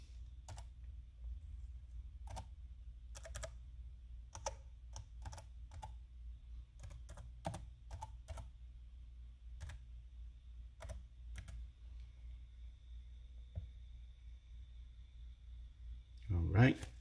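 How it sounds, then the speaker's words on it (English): Typing a password on an RCA tablet's on-screen keyboard, a sparse series of crisp taps at an uneven pace, quiet and close, ending in a brief louder rustle. "then you got to type in your password"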